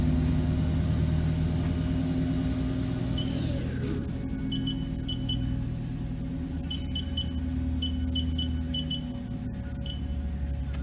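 A 2008 HAAS VF-1 20 HP vertical machining center spindle spins up to its 7,500 RPM top speed, a steady high whine with a tone that shifts as it reaches speed, joined by faint electronic beeps over a constant mechanical hum.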